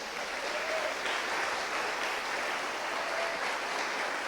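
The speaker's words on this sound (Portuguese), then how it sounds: "Você pode dar uma salva de palmas?" A steady, even round of applause from a church congregation, dense clapping at moderate distance filling the whole few seconds without voices on top.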